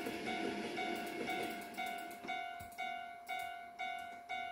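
A train departing past a level crossing, cars rolling on the rails with a repeated rhythmic clack, a tonal metallic ring sustained over the rumble.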